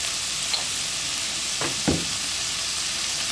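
Onions fry in a pan for mutton curry with a soft steady sizzle, and two brief stirring scrapes come about midway.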